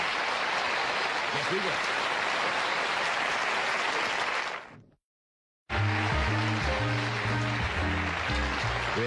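TV studio audience on a late-night talk show breaks into loud, sustained applause that cuts off abruptly, followed by a brief voice and music-like tones.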